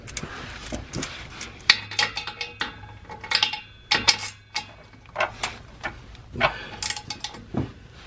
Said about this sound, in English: Now let's loosen these bolts.